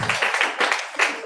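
Audience applause and clapping at a concert in Plenary KLCC, a short burst of dense crowd clapping with cheering swells that rise and fall over about a second.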